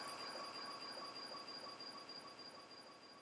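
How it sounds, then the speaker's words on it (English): Deep-level underground interchange where a train passes overhead on tram, main line or subsurface tracks: a steady distant rumble with faint high squealing tones, slowly fading, no talk. "You can hear a train above us."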